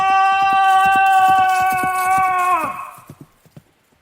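Horses gallop in a clip-clop rhythm of hooves under a long, loud horse whinny in an audio story about brothers chased by bandits, the whinny fading and the hoofbeats thinning out toward the end.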